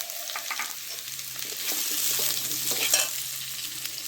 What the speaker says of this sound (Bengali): আলুটা একটু ভেজে নিই ভালো করে